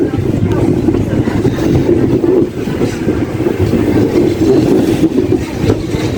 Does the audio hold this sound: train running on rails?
yes